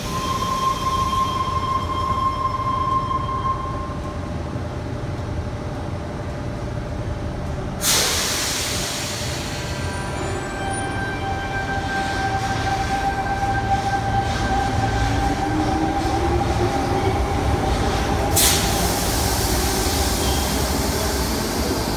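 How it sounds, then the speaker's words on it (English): A Sydney Trains electric set pulls into a platform at Redfern Station, with a continuous rumbling roll and hiss, faint whining tones and a couple of sharp bursts, heard steadily at close range without talk. "Helensburgh service arriving into platform number 12."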